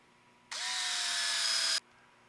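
An electric screwdriver drives a screw to hold the steering servo of an Axial SMT10 RC crawler kit, one loud whirring burst of just over a second, rising in pitch, close and alone.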